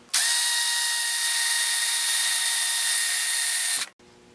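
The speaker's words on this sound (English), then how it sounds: "I'm going to drill a hole right here for a pin to go through" A steady high-pitched drill whine runs continuously for about four seconds while drilling a hole in metal, loud and close, then cuts off abruptly.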